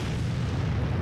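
Artillery shell blast in World of Tanks, a dense low rumbling boom that fills the whole second at steady loudness, with no voices.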